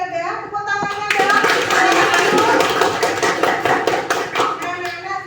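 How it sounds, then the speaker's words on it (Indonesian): A classroom of children bursts into lively, dense applause that holds for several seconds, with young voices chattering underneath. "Tepuk tangannya dong"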